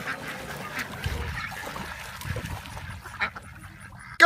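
Ducks quacking in short, scattered calls at a farm fall festival, amid a busy outdoor background with faint chatter, ending in a sudden loud burst.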